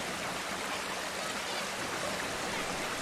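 Undikuristik waterfall and its stream in Estonia, steady broadband rushing water with a constant, unbroken roar close by, no voices over it.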